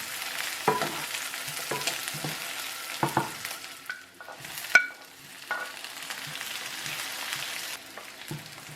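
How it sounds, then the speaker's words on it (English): Onions and carrots sautéing in olive oil in a hot tajine, with a soft, steady sizzle under occasional scraping stirs and a few sharper knocks of a spoon, close but fairly quiet. "Add the onions and carrots and saute for 5 minutes"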